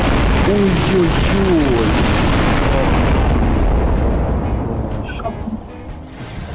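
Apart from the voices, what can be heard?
explosion in the video game Garry's Mod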